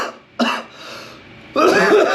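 Two harsh coughs, one short and sharp, then a longer rough cough with throat clearing, close to the microphone.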